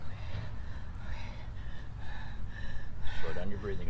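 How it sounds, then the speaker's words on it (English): Rapid, heavy breathing close to hyperventilating comes in short, sharp gasping bursts during a nighttime cemetery investigation, close and growing louder toward the end. "slow down your breathing, you're gonna hyperventilate."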